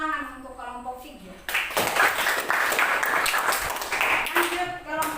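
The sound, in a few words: applause for group 3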